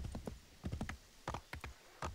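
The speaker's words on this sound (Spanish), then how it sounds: "Voy a coger el caballo porque si no, no llego." A horse galloping in the video game Assassin's Creed 3, quick uneven hoof clops in short bursts, fairly close and moderately loud, heard alone.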